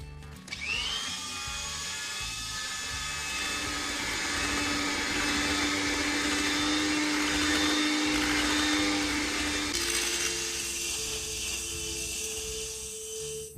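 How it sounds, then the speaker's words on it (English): A whisk giving chocolate migliaccio batter with ricotta cream a final mix, heard as a steady, loud whirring drone that runs unbroken, with a shift in pitch near the end and no talking. "with the whisk, let's give it one last mix to make the dough creamier and smoother"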